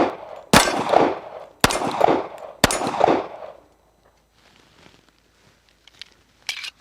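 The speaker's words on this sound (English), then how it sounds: "I am going to shoot a couple of rounds." Three loud handgun shots are fired from a modified isosceles stance, spaced about a second apart, each with a sharp crack and short ringing decay, followed by quiet with faint distant clatter and one softer pop.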